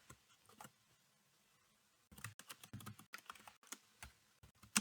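Typing on a computer keyboard while coding JavaScript form validation, with soft, sparse key clicks at first and then quicker bursts of close, crisp keystrokes in uneven rhythm, nobody speaking.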